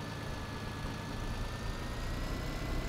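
A tractor engine in the Farming Simulator 2013 video game runs with a steady, broad droning hum, unbroken and even in level throughout, with no voices.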